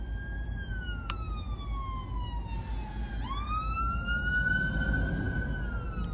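A fire engine siren wails at a moderate distance in road traffic, its two-tone pitch sliding down and then rising again, heard from inside a car with an engine hum underneath.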